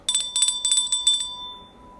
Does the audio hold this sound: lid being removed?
no